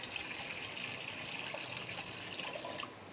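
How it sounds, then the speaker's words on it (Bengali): Water poured into a pan on a gas stove while cooking vegetable stalks, a soft, steady trickling and splashing that runs continuously at low volume before tapering off near the end. "এখন দিয়ে দেবো একটু জল।"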